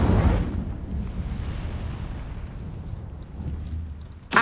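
An Incendio fire spell in Hogwarts Legacy bursts out with a heavy booming whoosh that decays into a long rumbling tail, and a sharp second blast hits at the very end.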